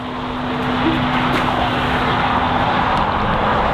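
A winter beater car drifts through an icy, snowy corner, a loud steady engine drone with road and wind rumble heard from inside the car, without talking.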